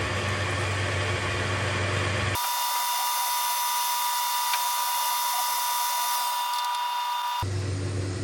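A drill bit bores into 316L stainless steel on a lathe, giving a steady, loud machine whir that holds for the whole stretch, its tone shifting partway through as the cut changes.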